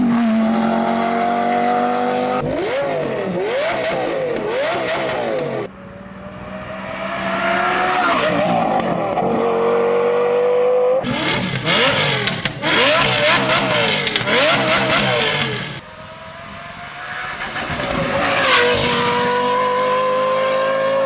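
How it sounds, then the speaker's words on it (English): A Lamborghini Gallardo with an FMU custom megaphone exhaust screams through repeated hard revs and upshifts, loud and close, each pull rising in a wailing howl before cutting off abruptly into the next gear. "the ultimate Lamborghini Gallardo exhaust comparison"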